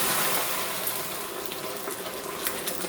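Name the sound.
water poured into melted caramelized sugar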